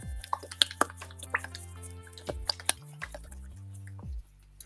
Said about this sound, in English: Let's stir it again. This one doesn't want to be stirred that well.